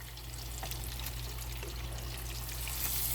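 Buffalo fish ribs fry steadily in a pan, a continuous even sizzle with a constant low hum underneath, close and moderately quiet with no talking.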